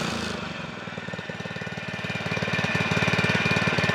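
A lawn mower engine idles close by with a steady, rapid chugging pulse that grows slightly louder toward the end.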